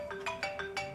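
A phone alarm chimes in a repeating melodic pattern, four or five quick tonal bursts over a steady background, fairly close and moderately loud.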